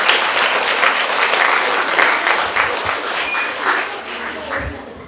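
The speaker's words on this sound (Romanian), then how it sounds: "să îi întâmpinăm cu aplauze" Loud, dense applause from an audience at a school theatre festival, steady clapping filling the whole stretch and easing slightly toward the end.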